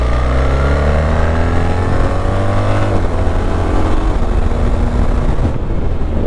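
A BMW 1300 GSA motorcycle with the ASA automated gearbox pulls under load, its engine a steady close drone whose harmonics climb and fall smoothly with the revs. No one speaks.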